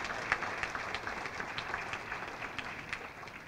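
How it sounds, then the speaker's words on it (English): Audience applause at a community fundraising dinner, a soft, distant patter of scattered clapping in a large room, steady and low in level with no voices. "Please give him a round of applause."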